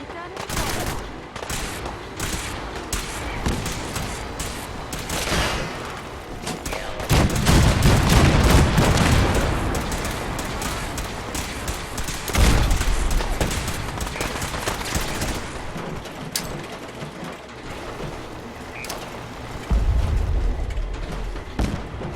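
Gunfire from a battle aboard the ship Constitution crackles in dense, continuous volleys of loud overlapping shots and booms, with shouted voices mixed into the chaotic din.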